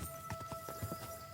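Horse hooves clip-clopping in the medieval game Kingdom Come: Deliverance II, a quiet, steady walking rhythm of soft thuds, faint against a low background hum.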